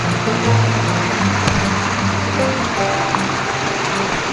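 Rainwater flowing over a monsoon trek trail on the Ranshil Ghat route to Bhimashankar, a loud, continuous rushing and gurgling wash close by with no breaks; no one talks.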